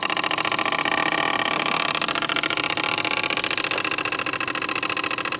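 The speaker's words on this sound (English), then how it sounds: "There you go, the pump now" Pump running steadily while siphoning diesel contaminated with diesel bug from boat fuel tanks into barrels, a loud continuous mechanical drone with a fast rhythmic pulse, close and unbroken, with no talking.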